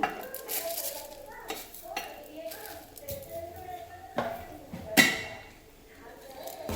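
A spoon stirs jaggery and sugar in oil with a little water in a pan to dissolve them, making soft scraping strokes and occasional metal clinks, one sharper knock near the end, under a quiet kitchen background.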